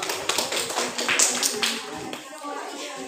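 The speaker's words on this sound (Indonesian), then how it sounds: "Sudah berikan tepuk tangan untuk kelompok A" Scattered hand claps from a classroom audience applauding a student group, a fairly close, uneven patter of taps that thins out toward the end while voices murmur underneath.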